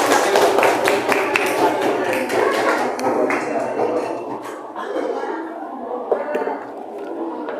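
A classroom of students clapping for a presenting group during a short-story writing lesson, a brisk ragged burst of hand claps that fades after a few seconds into murmuring and scattered sounds.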